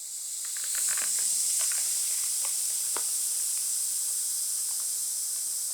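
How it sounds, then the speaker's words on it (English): Air hisses out of a bicycle inner tube as the valve core is pressed down with a screwdriver tip: a steady, close, high hiss that starts after a moment and holds evenly for several seconds. "Just letting the tyre down."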